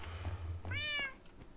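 A cat gives one drawn-out meow, rising and then falling, close and fairly quiet, over a low steady hum of room noise.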